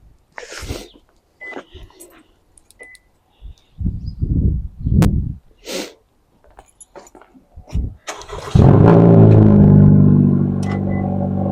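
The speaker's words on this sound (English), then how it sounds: "we gonna get a little cold start" A straight-piped Honda Civic cold-starts after several seconds of scattered clicks and small noises. The engine catches with a sudden loud, raspy roar, then settles into a steady, slightly quieter idle that continues to the end.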